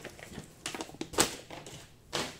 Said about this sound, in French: Et puis maintenant, je vais déballer le vrai.